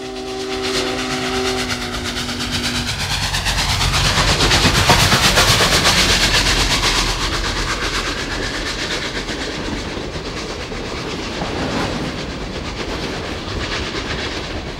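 Union Pacific 844 steam locomotive hauling a train past, whistle blowing briefly at the start, then a loud, sustained roar of exhaust and rolling wheels that swells and fades.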